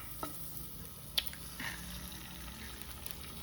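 An egg fries in oil in a pan over onions, a quiet steady sizzle with a few soft stirring clicks and scrapes, close and faint.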